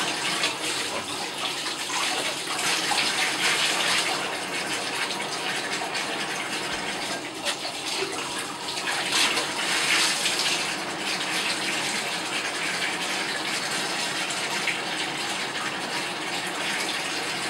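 Steady water rushing from a tap as cloth diapers are rinsed under it, a constant broadband splashing flow that continues without pause.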